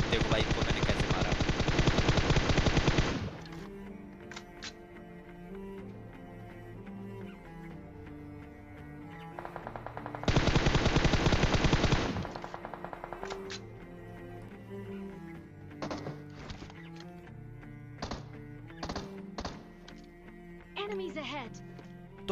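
Automatic gunfire during a battle royale video game fight against enemy players, with two long loud sustained bursts and scattered shorter shots, set against busy game sound and background music.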